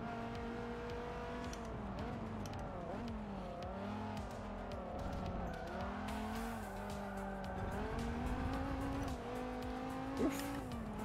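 Race car engine in Forza Motorsport 7 revving and shifting continuously through a lap, with tires squealing and skidding as the car drifts through corners, loud and steady throughout.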